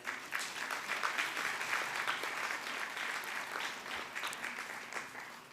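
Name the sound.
audience applause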